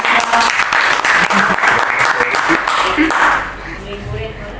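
Workshop participants clapping for a group, a dense, loud round of applause with voices mixed in, tapering off in the final second.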